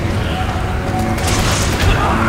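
A loud, rumbling explosion from the video game Resident Evil 5 rolls through a dense, sustained wash of noise, with heavy low-end booms and no clear gaps.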